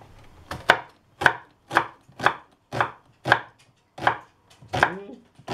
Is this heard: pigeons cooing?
no